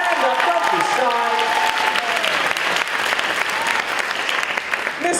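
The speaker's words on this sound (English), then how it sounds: "Big round of applause, please." An audience claps for a theatre adjudicator as he is introduced, loud sustained applause with a few voices calling out at the start, continuing for several seconds.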